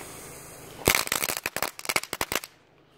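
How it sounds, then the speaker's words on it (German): A Cialfir Fuente Grillos F1 firework fountain bursts into dense, loud crackling that pops rapidly for about a second and a half before cutting off, heard alone outdoors. "Okay, Crackling extrem laut."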